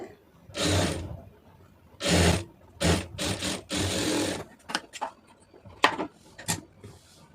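A sewing machine runs in several short bursts of rapid stitching along a churidar neckline, close and loud, separated by pauses and small clicks of fabric handling.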